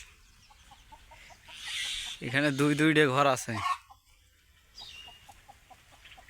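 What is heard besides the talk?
chickens clucking at farm chicken house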